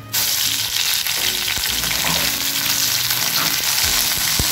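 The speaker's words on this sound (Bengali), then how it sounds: "এরপর আমি গ্যাস অন করে কড়াইয়ে সামান্য পরিমাণ সাদা তেল গরম করে নিয়েছি। এতে আমি কুচিয়ে রাখা মেথির শাকটা ভেজে নেব।" Chopped fenugreek leaves frying in a little hot white oil in a kadai, giving a loud, steady, continuous sizzle from the start with faint stirring knocks, no voices.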